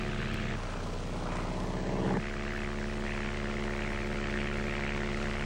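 Two small propeller planes fly over rainforest, their engines droning loudly and continuously with a steady buzzing hum that shifts slightly in pitch partway through, no voices over it.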